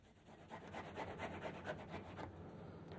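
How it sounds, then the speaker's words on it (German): Cooked, cooled potatoes are grated onto a cloth for potato pancakes, giving a soft rhythmic rasping that repeats in quick strokes, close and fairly quiet, with no voices. "begins the potato pancakes by grating cooked and cooled potatoes onto a cloth"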